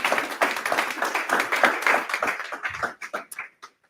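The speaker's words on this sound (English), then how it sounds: "So everyone, let's give him a round of applause." An audience at an evening talks event at a business school in Madrid claps for a speaker, a dense burst of close hand claps that thins into a few scattered claps before fading out.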